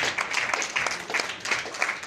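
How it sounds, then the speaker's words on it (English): Mourners applaud at a funeral for a Lagos society woman, a short burst of scattered clapping that swells and dips in uneven waves, with some faint murmuring underneath. "Can we give her a round of applause again?"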